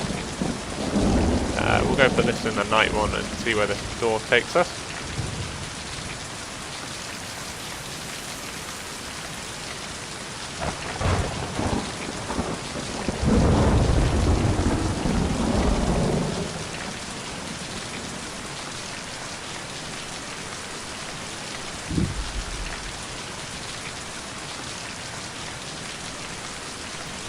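Rain pours in the video game Mind: Path to Thalamus beneath rolling thunder, a constant wet hiss broken by several loud booming rumbles and crashes; a person speaks briefly over it.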